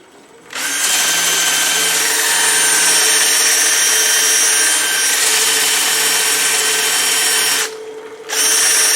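Sandpaper rubbing a spinning turned wooden bowl as the grits are worked through, giving a steady, loud abrasive whir that runs almost without a break for about seven seconds, dips briefly near the end, then resumes.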